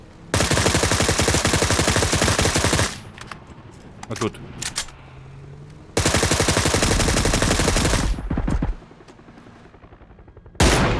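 Bursts of rapid automatic gunfire in PUBG, loud and close, broken by short quieter gaps with a few single shots and faint voices.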